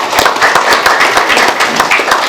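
An audience claps after an inaugural speech, a dense run of sharp, overlapping handclaps at close range, steady and fairly loud for the whole stretch, with no talk over it.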